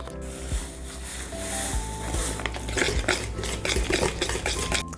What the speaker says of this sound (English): we're gonna stir in 1 box of Jiffy's corn muffin mix